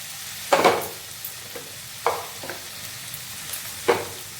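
Soya chunks tipped into a pan of soya chilli sauce over low heat and stirred, giving three soft clattering scrapes of the spatula spaced a second or two apart, with a faint sizzle underneath.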